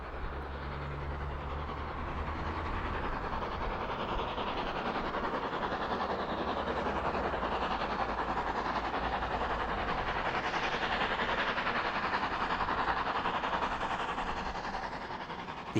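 A Drummond M7 steam locomotive runs along the Swanage Railway in the Purbeck Hills, a steady loud rolling rumble with rhythmic clatter of wheels and carriages lasting throughout.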